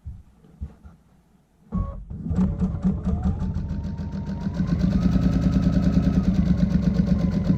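A Baby Lock Altair sewing machine stitching quilt binding, starting after a few soft handling clicks and settling into a steady, rapid mechanical chatter that speeds up slightly and runs on loud and close.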